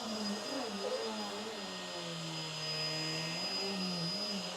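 A Hoover Windtunnel Tangle Guard upright vacuum cleaner runs steadily on a rug, a loud continuous motor drone with a high whine whose pitch sags and wavers as the brush roll slows under load.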